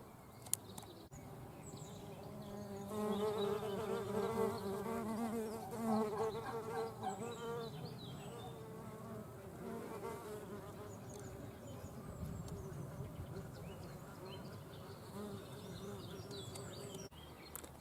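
Solitary bees buzz around a garden bee hotel, their drones rising and fading as they come and go, close and steady over a soft outdoor background.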